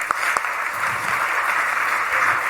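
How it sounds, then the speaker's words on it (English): An audience applauding at an 80th birthday celebration, dense continuous clapping, fairly close and loud, lasting a few seconds. "Please, you all can have a big round of applause for uncle."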